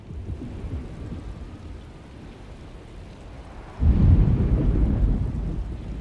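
Thunderstorm with rain in the Alone in the Dark video game: steady rain hiss, then a loud, close thunder rumble bursts in partway through and rolls on, with no voices.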